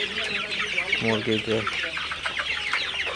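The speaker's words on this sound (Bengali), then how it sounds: "আপনারা দেখতে পাচ্ছেন আমার পুরো শীতের মুরগিগুলা পানি খাইতেছে" Sonali super hybrid chickens cluck nearby while drinking fresh water on a farm at midday. A short run of three throaty clucks stands out over steady flock chatter and background noise.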